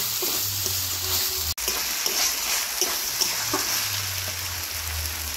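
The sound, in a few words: mixed vegetables being stir-fried with spices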